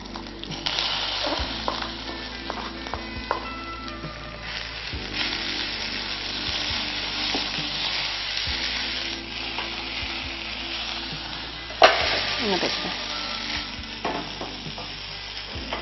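Curry leaves and dried red chillies sizzling in coconut oil with mustard seeds, a constant loud frying hiss broken by scraping stirs of a spoon in the pan and one sharp clatter near the end.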